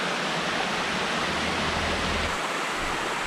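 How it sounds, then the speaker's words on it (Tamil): Small waterfall pours steadily, a dense broadband rush of flowing water that stays loud and even throughout. "சின்ன அருவிலையும் தண்ணி வந்துட்டுருக்கு"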